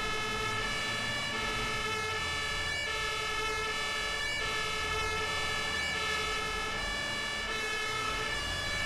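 Fire truck siren wails continuously on an emergency response in a Danish-language firefighting video game (Emergency / Notruf 112), steady and loud, with harmonic tones and engine rumble beneath, no talk.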